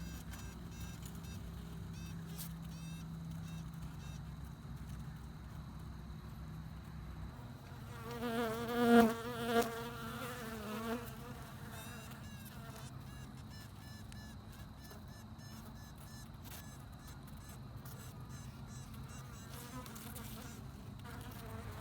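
Honey bees buzz around a queen in a nuc box, a continuous close drone that swells into a louder, rougher burst midway before settling back to a steady hum.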